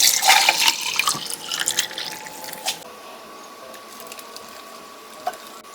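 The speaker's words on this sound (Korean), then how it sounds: "소금물을 부어 보겠습니다." Lukewarm salt water poured from a container into a small bottle packed with chili peppers for pickling, a close bubbling trickle that is loudest at first and then thins to faint drips.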